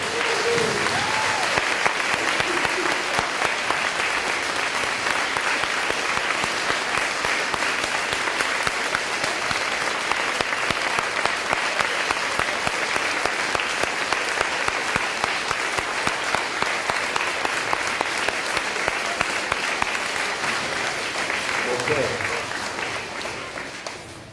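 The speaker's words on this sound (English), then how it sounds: "let's everybody give those kids a round of applause" A school assembly crowd in a gym with bleachers claps in a long, sustained round of applause that holds steady for over twenty seconds before tapering at the end.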